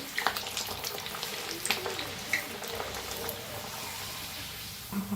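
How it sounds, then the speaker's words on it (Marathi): Carrot puri sizzles and bubbles in hot oil, a steady crackling fry with scattered pops and spatters, moderately close and continuous throughout. "तेल बी ठेवलेलं आहे, गरम झालंय चांगलं. असं थोडंसं प्रेस करून ना तळून घेऊया."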